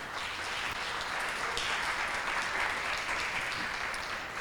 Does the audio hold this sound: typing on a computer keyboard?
no